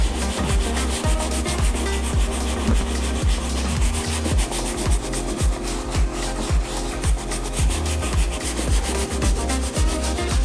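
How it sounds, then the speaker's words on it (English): Soft bristle brush scrubbing mink oil into suede Jordan 5 sneakers, a steady, rhythmic back-and-forth rasping of bristles on suede, close and continuous with no talking. "So now I'm going to take a dry Rejuvenator soft bristle brush and rub it in."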